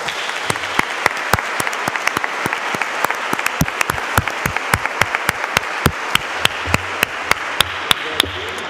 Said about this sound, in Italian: Grazie agli alpini che meritano un grande applauso.